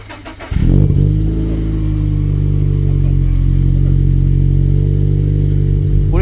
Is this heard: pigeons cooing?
no